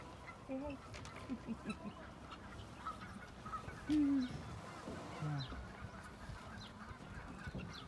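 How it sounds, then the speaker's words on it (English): Guinea fowl call in short scattered squawks and chirps while digging in a trough at a safari park, faint and somewhat distant over outdoor ambience and soft voices. "I love how the guinea fowl are using that trough there."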